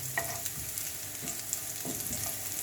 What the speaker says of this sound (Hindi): लहसुन को भी जो है अच्छी तरह ब्राउन कर लेना है